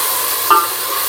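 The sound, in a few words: sautéing in a pan for chicken dum biryani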